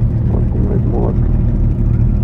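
A motorcycle engine runs at a campsite before a ride up a mountain, a steady loud low rumble throughout with voices talking over it.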